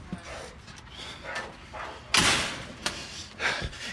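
Door handled and pushed open and shut with thuds and a sharp slam-like burst midway, followed by further knocks, with a voice muttering in between.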